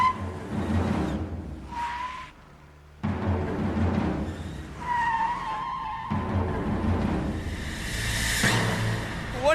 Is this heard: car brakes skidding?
yes